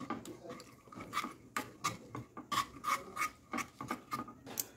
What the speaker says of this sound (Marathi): मस्त मिक्स करत राहायचं